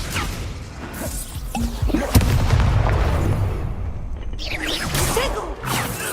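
A spell cast in the video game Hogwarts Legacy lands as a loud whooshing crash and boom, followed by crackling magical bursts and swishes, with a voice calling out over the effects.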